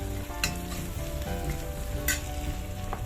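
Ginger and garlic fry in a pan for a soya chunk roast, giving a loud, continuous sizzle with stirring clinks and a couple of sharp metallic taps.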